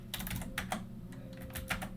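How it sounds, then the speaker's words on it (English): A router command goes in on a computer keyboard for a Cisco EIGRP setup, with uneven bursts of crisp, close keystrokes and brief pauses, quiet and with no voices. "we'll type in distance"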